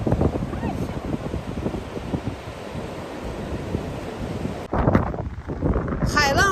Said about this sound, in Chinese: 海浪声超级大呀！